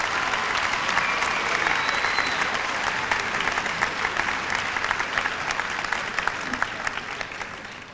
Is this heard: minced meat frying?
no